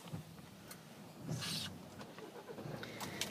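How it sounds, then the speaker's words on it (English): A car with 8,074 miles on it cranks and starts, a brief whirring burst about a second in settling into a quiet, steady idle, with no talking. "there's no issue at all starting the vehicle, it just starts perfectly fine"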